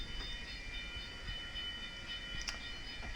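Train rumbling through a tunnel on a double-track main line, a low steady rolling roar with faint metallic ringing and a short sharp squeal near the end, no voices.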